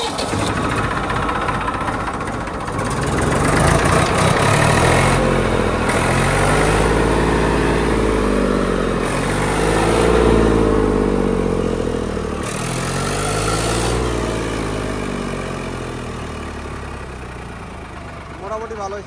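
A tractor engine fires up and settles into a loud, steady, rumbling idle close by, with its throb swelling and easing slightly over time while people talk over it.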